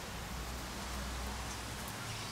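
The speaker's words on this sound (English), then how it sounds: "It is raining." Rain falls steadily in a backyard with a pool, heard from under the eaves as a soft, even hiss of drops close by, faint and continuous with no voices.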